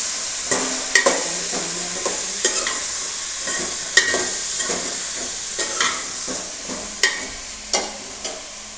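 Mixed vegetables fry in hot oil with a constant bright sizzle while a utensil stirs them, adding regular scraping knocks about once a second.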